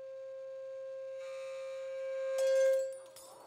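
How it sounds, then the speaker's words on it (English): A steady loud pure tone rings at a wine glass's resonance during a physics show demonstration, swelling in intensity until the glass shatters with a sharp crash and tinkling fragments. "he'll crank up the amplitude, and hopefully, we'll shatter this wine glass."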